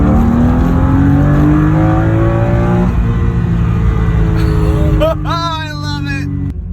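BMW E36 M3 drift car accelerating on a test drive, heard from inside as a loud, continuous engine note rising in pitch, with a gear change partway through and then a higher revving climb.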